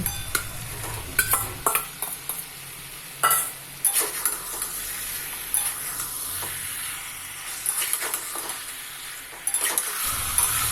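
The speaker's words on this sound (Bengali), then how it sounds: "এখন আমি আগে থেকে মেখে রাখা চিকেন দিয়ে দিচ্ছি" Marinated chicken tipped into a pan of frying tomatoes, sizzling steadily while a spoon scrapes and stirs in repeated bursts, close and fairly loud.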